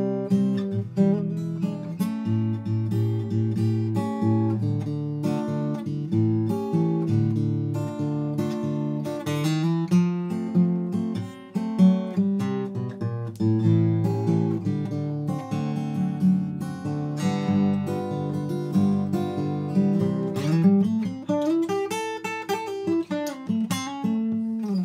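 An acoustic guitar is played fingerstyle in an unplugged style. A steady bass line and picked chords continue for about 25 seconds, clear and unaccompanied, with a bent note near the end.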